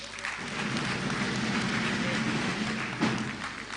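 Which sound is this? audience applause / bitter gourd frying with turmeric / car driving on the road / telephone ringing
audience applause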